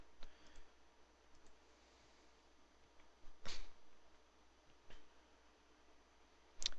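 Quiet, sparse computer mouse clicks while someone plays a naval air combat wargame on a PC, a few single sharp clicks spread several seconds apart over a low room hiss.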